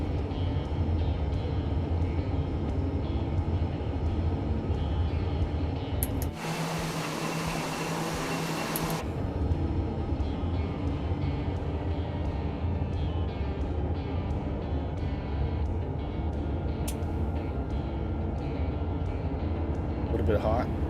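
An IRIS PC-21 turboprop on final approach in Microsoft Flight Simulator hums with a steady engine drone. A brief loud broadband whoosh interrupts partway through before the even engine tone returns.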